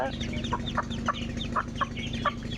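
A brooding hen that hatched Chinese duck ducklings clucks outdoors in a rhythmic series of short, fairly close calls over a low background hum.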